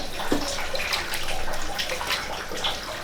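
Soaked boiled ingredients for Thai khao chae are rinsed under running water, giving a steady close splashing and gushing that runs without a break.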